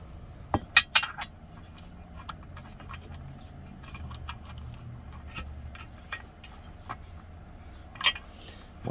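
A small metal washer is picked up and handled near a 1980 Yamaha XS650 side cover, giving light, scattered clinks and ticks, with a couple of sharper taps, over a quiet background.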